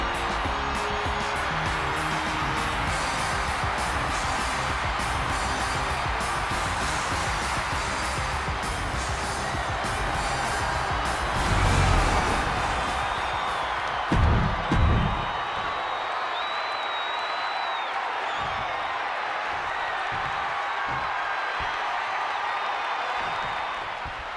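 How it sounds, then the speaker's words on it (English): Dense crowd roar and cheering from a wrestling arena audience in WWE 2K25, steady and loud throughout with brief swells, thinning slightly toward the end. "The entire WWE Universe is cheering on Shaq, including yours truly."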